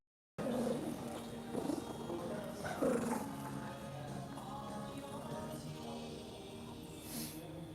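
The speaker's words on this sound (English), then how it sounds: "A dog that says bye." A dog vocalizes indoors with low, rumbling growl-like moans rising in a few short pulses, fairly close, then trailing into a softer drawn-out sound.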